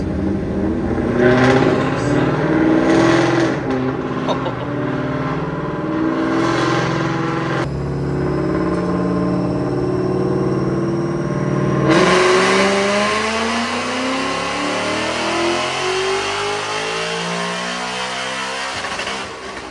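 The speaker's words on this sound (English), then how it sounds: "I've actually never heard my car run on a dyno before with the new exhaust setup" A supercharged 2020 Mustang engine with an ESS G3x supercharger roars and revs steadily at high power on a dyno for a long stretch, loud and close, with pitch sweeping up through the gears.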